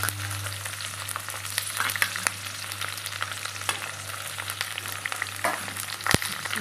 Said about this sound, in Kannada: ಇದನ್ನ ಎಲ್ಲ ಫ್ರೈ ಮಾಡ್ಕೊಳ್ಳೋಣ.